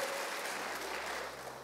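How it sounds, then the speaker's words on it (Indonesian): A church congregation at an online worship service claps together, a steady, fairly faint wash of applause continuing throughout the short moment. "tepuk tangan bagi Allah kita saudaraku"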